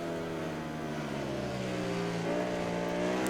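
A motorcycle engine in the video game MotoGP 19 whines with rising and shifting pitch as a racing motorcycle closes in from behind, its tone climbing steadily, with no one talking.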